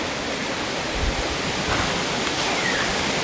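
A river in Bicol, swollen after a flood, rushes steadily with a dense broadband wash that stays even and fairly loud from start to finish, and no voices are heard.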